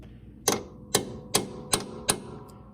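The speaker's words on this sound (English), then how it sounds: "Punch a little hole right here." A center punch struck with a hammer on a lawn tractor deck case: five sharp metallic taps at an even, unhurried pace, close and clear with short ringing decays and no talking.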